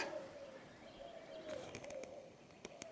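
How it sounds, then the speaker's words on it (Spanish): Birds call and coo along the Nazas river in the Fernández Canyon, Durango, with a steady tonal note running throughout and a few sharp chirps clustering near the end, fairly close against quiet open air. "solo interrumpido por el canto de las aves."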